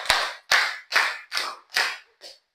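A classroom of students claps a counted rhythm in unison: six crisp, loud group claps in a steady pulse, the last one lighter, with brief silences between them.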